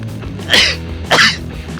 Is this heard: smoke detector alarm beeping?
no